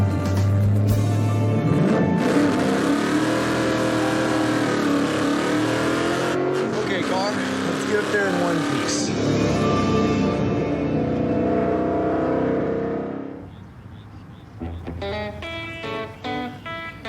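A modified Falcon race car, set up for a '67 Dodge Dart race, roars loud and close as it accelerates off the start, with a sustained rising engine drone that fades out near the end before a few short tones, under talk.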